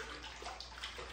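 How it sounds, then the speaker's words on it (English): Water runs into a bathtub in a steady, soft hiss and splash, quiet and continuous for just over a second, with no talking over it. "Is that running out of water?"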